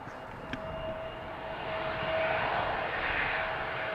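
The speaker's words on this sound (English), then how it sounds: "That was a quick retraction of the landing gear." An Airbus A320 jet climbing out from Amsterdam Schiphol runway 36L as its landing gear retracts, a steady broad engine roar that swells slightly, heard from a distance with a faint click early on.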